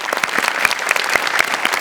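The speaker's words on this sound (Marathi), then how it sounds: "वा, जोरदार टाळ्या." Loud applause from a studio audience after a comedy sketch performance, steady dense clapping filling the whole moment with no voices.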